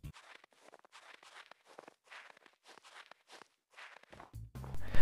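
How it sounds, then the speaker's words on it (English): Footsteps crunch steadily on powdered snow in Minecraft, a run of soft, scratchy steps at a walking pace, fairly close and with no talk, before a louder, different game sound cuts in at the very end. "powdered snow also makes different sound when you walk on it"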